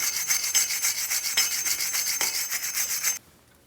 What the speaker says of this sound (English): You can use a wire brush or a light sanding disc.